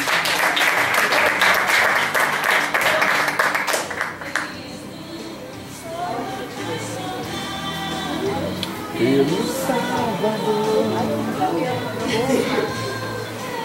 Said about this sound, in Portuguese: Vamos aplaudir a Joana.